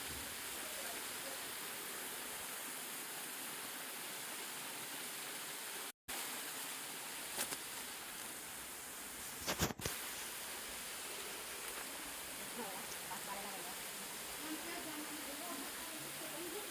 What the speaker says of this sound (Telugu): చూడండి ఆ వాటర్ ఫాల్ అయితే చాలా అంటే చాలా బాగుంది